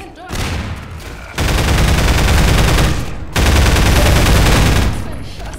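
Two long, loud bursts of rapid automatic gunfire in the video game Half-Life 2: Episode One, separated by a brief pause, with a quieter lead-in before the first burst.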